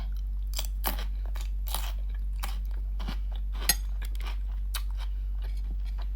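Crunchy shrimp being chewed close to the mouth, with a series of brief, irregular crisp bites and crunches spread over several seconds and no talking.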